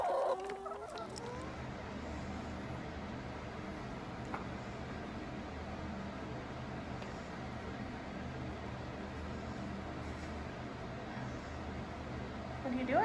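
Backyard hens cluck and murmur around a feeder in a chicken run, a steady, close chorus of soft clucks with a few sharper calls near the start and end.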